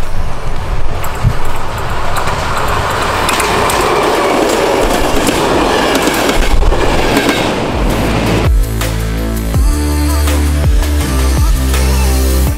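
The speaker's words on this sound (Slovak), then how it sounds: "Akurát ide vlak." A train rumbles across a railway viaduct, first as a broad roaring wash of noise seen from above, then close and loud with rhythmic clickety-clack of wheels over rail joints in the final seconds.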